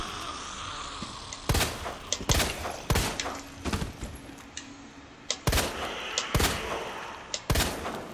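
Pistol gunfire in Resident Evil 2 Remake: a string of sharp, loud shots fired in short bursts and single cracks, irregularly spaced over several seconds, with quieter thuds and game ambience between them.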